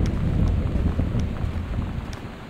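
Steady, fairly loud rain with low thunder rumbling through a game storm in Gone Home, a dense continuous wash with faint crackles and no talking.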